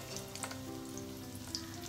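Chapli kebab made with raw keema and topped with a tomato slice, frying in oil over medium heat, giving a steady close sizzle with faint crackles and pops throughout.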